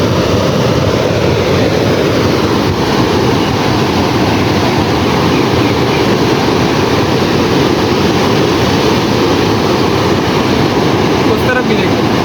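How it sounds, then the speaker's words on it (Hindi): Fast-flowing river water rushes at Sukkur with a loud, unbroken roar that fills the whole stretch without pause. "बड़ा तेज़ पानी निकल रहा है यहाँ पे, बड़ी स्पीड है पानी में यार।"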